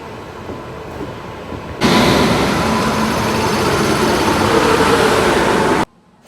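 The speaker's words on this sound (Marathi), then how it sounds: "जस्ट आता ट्रेन आले तुम्ही पाहू शकताय" A train pulls into a railway station platform with a loud, steady rumbling roar that lasts about four seconds and then cuts off abruptly.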